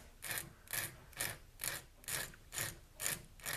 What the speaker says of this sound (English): we're going to take a file and we're going to file that tip down